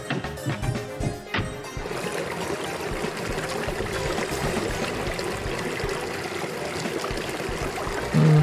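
Water rushing steadily in Trails in the Sky SC after a lever changes the water levels, a continuous broad stream that fills the whole stretch evenly, with no talk.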